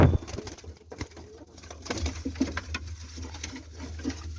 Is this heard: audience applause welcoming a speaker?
no